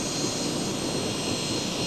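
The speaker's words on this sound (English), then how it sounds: "There's engine number 9 and engine number 10 handle the consist at the end of Rosy Rhubard on Sunday" Steady, loud engine roar from two railway locomotives, engines No. 9 and No. 10, hauling a train consist, a continuous broadband drone with no voices over it.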